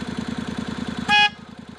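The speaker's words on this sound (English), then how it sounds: "I also took out the stock horn and put in a real horn" Against a Honda CTX700 motorcycle engine idling with a rapid rhythmic putter, a single loud, brassy blast from an aftermarket horn sounds for a fraction of a second.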